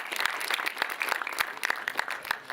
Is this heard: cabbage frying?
no